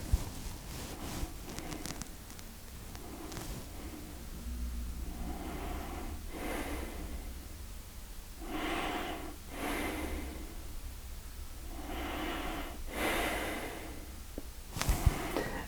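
Slow, deep breaths during a beginner yoga session, with several long airy inhales and exhales spaced a few seconds apart, fairly close and soft, over a quiet room hum with light rustling and no speech.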